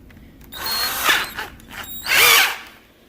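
A handheld power drill bores holes into an RC car body in two close, whining bursts with a short lull between them; no talking.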